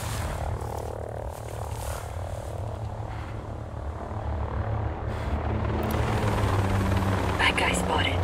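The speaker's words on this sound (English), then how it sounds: "We got a chopper overhead." A helicopter passes overhead in the video game Ghost Recon Breakpoint, its low rotor drone continuous and gradually swelling louder toward the end, with rougher rumbling textures mixed in.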